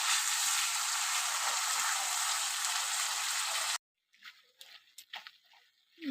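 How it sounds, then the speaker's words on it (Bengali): Spice paste sizzling loudly in hot oil in a pan, ground masala with salt for Bengali banana-flower kofta, steady broadband frying for several seconds, then cutting off abruptly to quieter stirring clinks and faint scraping. "স্বাদ মতো লবণ দিয়ে এবার মশলাটাকে বেশ ভালো করে কষিয়ে নেব।"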